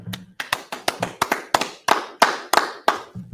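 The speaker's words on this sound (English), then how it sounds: "Clap it up." Hands clapping in a religious class, about a dozen sharp, separate claps in an uneven rhythm, close and clear with little else around them.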